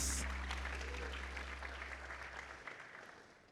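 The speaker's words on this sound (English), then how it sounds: "Keep clapping, keep clapping. Let's keep it going, keep clapping." An audience at a pitch competition claps in a sustained round of applause that slowly fades, heard faintly from a distance in a large room.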